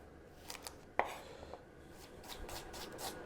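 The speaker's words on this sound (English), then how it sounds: "So again, cutting them really thinly, and they cook in no time once they're like this" Brussels sprouts are sliced thinly with a knife: soft, quiet cutting strokes on a board, with one sharper tap near the start and a faint hush of background room noise.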